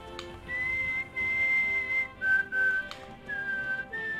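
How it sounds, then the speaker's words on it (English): A person whistles a tune in several sustained, gliding phrases, fairly loud and close, over a low background of Fallout 3 game sounds; no one talks. "I should stop whistling."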